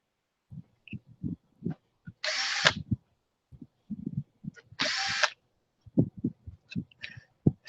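Two short bursts of a power drill driving screws stand out clearly, each whirring about half a second, separated by quiet handling clicks and light tapping.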